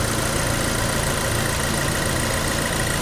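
A small turbocharged 2.0-liter Cadillac four-cylinder idles steadily at close range, a dense continuous engine rumble and whir without variation and with nobody speaking.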